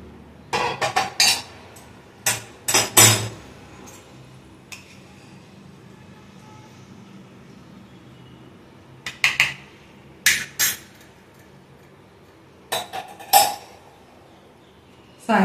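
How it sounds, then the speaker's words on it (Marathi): Lemongrass tea being strained after a good boil: scattered metallic clinks and clatters of a pot and strainer come in short bursts, with quiet stretches between them and no talk. "आता मी हा चहा गाळून घेते।"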